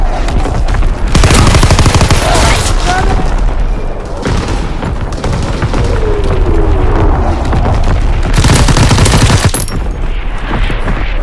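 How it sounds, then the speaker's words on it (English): Heavy naval primary battery artillery fire in a Call of Duty WWII game: loud, dense booming volleys and rapid gunfire rolling continuously, with bursts swelling and fading over a sustained roar. "Firing primary battery!"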